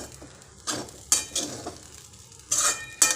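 Kanda poha being stirred and tossed in a pan with a spoon, several separate scraping strokes and clinks of metal on the pan spaced irregularly over quiet low sizzling, with no voices.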